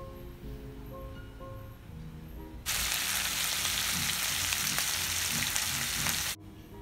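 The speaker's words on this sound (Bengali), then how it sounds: "তেল গরম করে মাছগুলো দেওয়া হচ্ছে। হালকাভাবে মাছগুলো ভাজতে হবে।" Hilsa fish sizzle loudly in hot oil in a kitchen pan, a sudden strong frying hiss that starts partway through, holds steady and cuts off abruptly, with quiet background sound before it.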